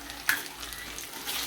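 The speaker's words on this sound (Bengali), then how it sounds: "একটু জল দিয়ে কষিয়ে নিচ্ছি" Ground turmeric, coriander and cumin sauté in a pan with a splash of water, giving a brief close, steady hiss with a faint clink.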